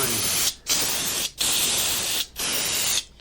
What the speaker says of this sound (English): But it sprays really well with the Critter.